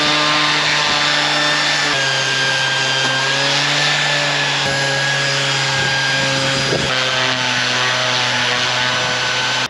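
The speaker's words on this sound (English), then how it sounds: "I'm sanding these timbers" Steady, loud grinding of a power sander working over old timber boat deck planks, a continuous buzzing drone with a few brief scuffs and bumps, no speech.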